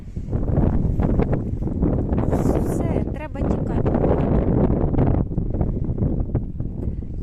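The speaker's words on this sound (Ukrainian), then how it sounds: "Ох, який вітер холодний." Heavy, cold wind buffets the microphone outdoors in a loud, continuous rumble while a voice speaks briefly underneath.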